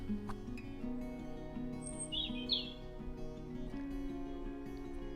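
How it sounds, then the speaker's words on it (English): Faint, brief bird chirps in a hazel coppice woodland, where a cock pheasant and pigeons are about, rise over a steady low hum that runs throughout. "There's a cock pheasant over there, and some pigeons have just took off"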